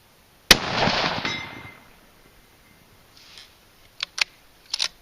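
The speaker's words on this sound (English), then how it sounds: "That solid copper round sure makes a pretty good ring." A .243 Win rifle fires a solid copper bullet, one sharp loud crack with a decaying ring, then faint distant metallic pings from a steel target a few seconds later.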